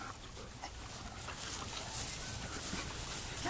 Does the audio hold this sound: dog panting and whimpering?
yes